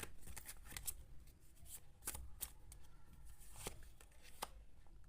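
Tarot cards shuffled by hand in quick riffling bursts and soft slaps, close and fairly quiet, with no talking.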